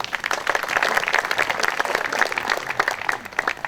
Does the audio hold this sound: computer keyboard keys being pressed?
no